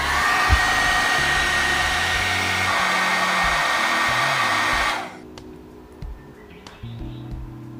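A hair dryer blows loudly and steadily while heating a part on a 1/48 Zoukeimura F-4E Phantom II scale model kit, then switches off abruptly, leaving quiet handling clicks and taps.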